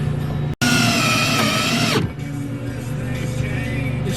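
A power drill drives a self-drilling bolt while finishing carpet in a Bayliner 2455 project boat, a loud close whine of the motor for about two seconds that cuts off, leaving quiet background hum.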